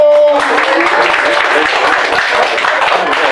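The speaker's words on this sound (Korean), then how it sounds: "박수 한번 쳐주세요" An audience at a year-end gathering and general meeting of a victims' group breaks into dense, loud applause right after a voice over a speaker system, the clapping sustained and close with talk mixed in.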